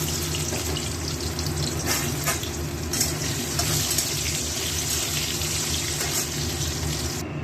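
Potato pieces frying in hot oil in a pan, giving a steady, dense, close sizzle that hisses on without a break.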